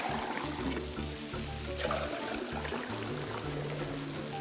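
Water pouring steadily into a container in a video game, a soft continuous trickle set against quiet game music.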